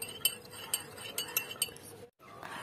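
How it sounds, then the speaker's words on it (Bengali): A spoon stirring chicken biryani scented with attar in a pot. It gives a handful of light, faint metallic clinks spaced irregularly over a quiet background, with no voices. "এবার আমি চামচ দিয়ে ভালো করে মিশিয়ে নিচ্ছি।"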